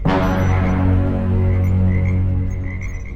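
A radio-drama frog effect: a deep, loud, steady croak that drones on continuously for about three seconds, rich with low harmonics and no other sounds.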